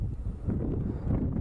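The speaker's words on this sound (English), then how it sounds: "I wish it wasn't so windy" Wind blows into an outdoor microphone in Yellowstone, a continuous low buffeting rumble that rises and falls in gusts, close and fairly loud, with no other clear sound over it.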